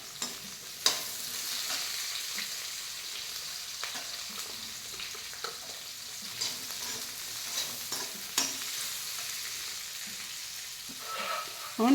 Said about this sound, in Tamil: ஒரு 3 வெங்காயம் இருக்கும், அதை கட் பண்ணியிருக்கேன். அதை நல்லா வதக்கிக்கலாம்.